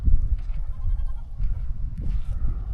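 Goats bleat close by on a goat farm in South Africa, several short, rough calls overlapping above a low rumbling background.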